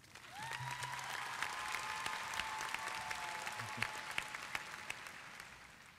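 Applause for the band at a high school graduation ceremony, a faint, distant wash of clapping heard steadily throughout, with a soft tone and a few low thumps beneath it.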